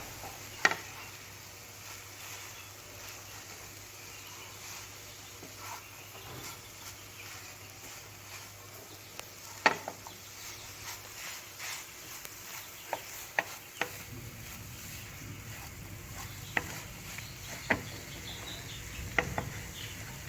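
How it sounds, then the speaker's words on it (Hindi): Chicken is stirred and mixed in a cooking pan over a low flame, with faint soft scraping and a light sizzle and scattered quiet clicks of utensils against the pan, heard alone. "अब हम इसमें चिकन ऐड कर देंगे। और इसको अच्छी तरह से मिक्स कर लेंगे।"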